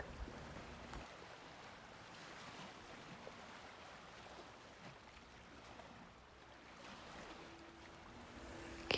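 Steady ocean waves washing in and sliding back, a soft continuous surf with gentle swells under a faint low hum, even and unbroken throughout.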